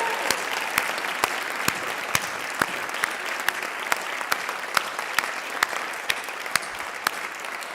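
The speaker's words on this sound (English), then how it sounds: "Let's give them a big round of applause." Steady round of applause from a graduation ceremony audience, dense continuous clapping with some sharper individual claps standing out, sustained throughout at moderate distance.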